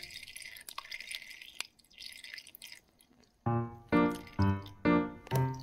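Hot water from a De'Longhi EC152J espresso machine during a flush, first a soft hissing splash, then a series of five rhythmic, resonant drips and gurgles into a container, close up and with no one talking.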